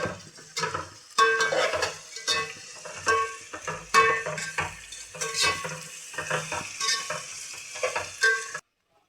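Spoon stirring bagara rice spices and ginger in a cooking pot at home, steady scraping and clinking strokes with a light sizzle, close and fairly loud, no talking.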